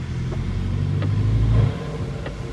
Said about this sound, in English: Y'all hear my intakes though?